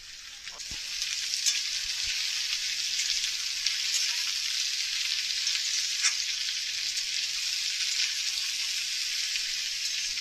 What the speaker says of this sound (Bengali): এবার বন্ধুরা আমার সব সবজিগুলোকে কড়াইতে দিয়ে নাড়িয়ে নিচ্ছি।